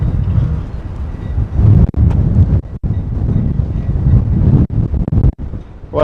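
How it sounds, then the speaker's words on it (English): Strong wind buffets a microphone outdoors in a continuous loud low rumble, with brief sharp dropouts and gusts over about six seconds and no talking. "It is super windy out here"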